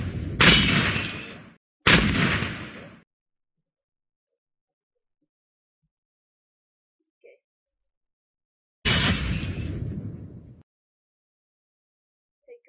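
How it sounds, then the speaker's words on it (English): Grenade explosions in a video game, two sharp booming blasts close together near the start and another, longer blast later, separated by near silence. "I need to kill this guy with a grenade."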